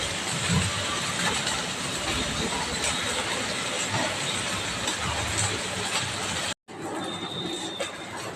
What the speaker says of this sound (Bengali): এবার আমি এখানে জল ঢেলে দেবো।